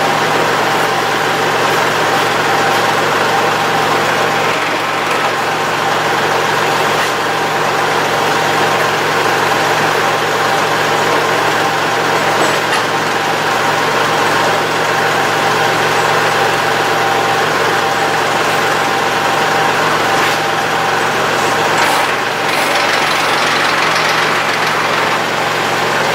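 A tractor engine idling with a WoodMaxx WM7600 backhoe attached, giving a steady, loud, continuous drone that stays close and even throughout, with no voices.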